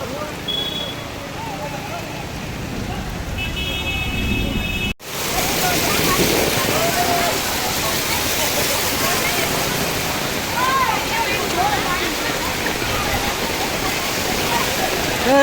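Heavy rain pours in Surat, India, while floodwater rushes along a waterlogged street. A loud, continuous broadband roar of rain and flowing water is briefly cut off near the start, then resumes and holds steady.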